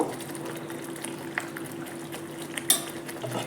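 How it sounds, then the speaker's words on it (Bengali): Omelette curry with green chillies and garam masala being stirred in a simmering pan, a steady bubbling hiss with a few light scrapes and clinks of the spoon, no talking. "এভাবে নেড়ে দেব"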